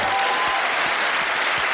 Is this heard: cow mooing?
no